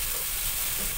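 Chicken pieces sizzling as they go back into a pan with juicy cooked-down tomatoes, a brief, steady bright hiss of frying with no voices.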